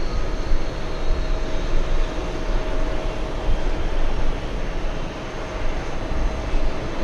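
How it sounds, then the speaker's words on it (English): A Boeing 787 Dreamliner passes at JFK with a broad, rumbling jet roar that pulses slightly in loudness, fairly loud and continuous for several seconds with no voices. "Yeah, that was a Dreamliner."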